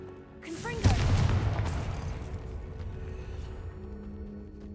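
A blasting spell in Hogwarts Legacy goes off with a sudden deep boom that rolls into a long, fading rumble, loud at first and then settling under a low ambient hum.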